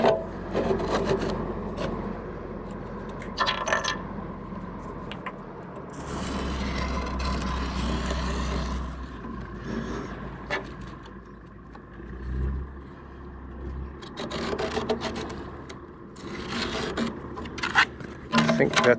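A marker scratches and rubs across a rusty steel wheelhouse roof in several separate bursts, close by, with quieter stretches and a faint low hum between strokes.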